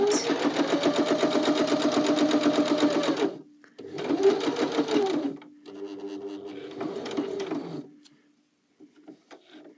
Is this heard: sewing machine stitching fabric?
yes